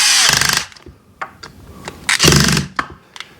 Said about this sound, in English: Just torquing these down to